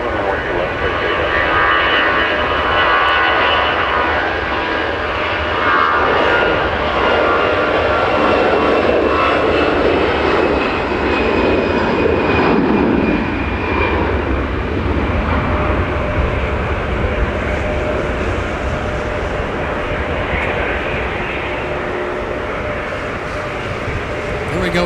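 A Delta airliner takes off from Minneapolis–St. Paul Airport during a winter snowstorm, its engines roaring loud and steady for the whole stretch with a rising whine above them and a voice talking underneath.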